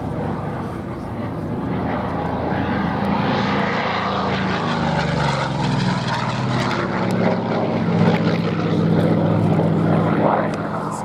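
A Vought Corsair warbird makes a low final pass at an air show, its propeller engine droning loud and steady, rising and falling as it sweeps by.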